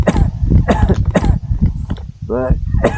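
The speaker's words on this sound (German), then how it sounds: "ein bisschen huste ich noch hier und da" A man wearing an Airtrim mask outdoors in the mountains gives several close, harsh coughs and throat clearings in quick succession, with a short voiced sound between them.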